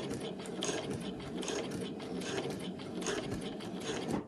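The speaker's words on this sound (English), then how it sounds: "I'm going to do a back stitch, a really strong back stitch, about four back and four forward" Sewing machine stitching slowly along a fabric travel wallet with passport pockets, a steady continuous mechanical whir and needle clatter running close and loud throughout with no talking.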